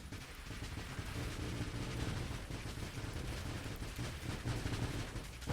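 An enemy ship fires in the Nova Drift space shooter game, producing a faint, continuous rattle of rapid burst-fire shots that runs unbroken throughout.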